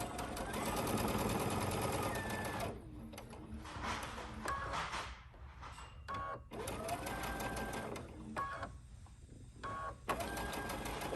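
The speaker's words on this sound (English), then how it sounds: "I'm gonna sew around the outside 3 sides, leaving the long straight edge open" A sewing machine runs in bursts while stitching a 1/4 inch seam around three sides of an ornament potholder, its rapid needle chatter loud and close, pausing briefly and restarting.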